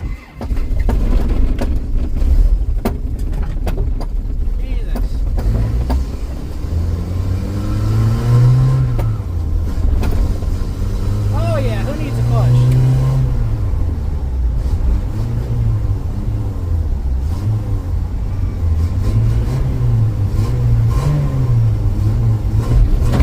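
A $500 4x4 Trooper driven with no working clutch, its engine revving up and down in repeated surges under steady road and wind rumble, loud and close, with no talking.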